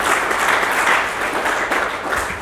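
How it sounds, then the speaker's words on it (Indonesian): Loud, dense applause from a large audience, continuous clapping filling the whole short stretch without pause. "Kasih tepuk tangan."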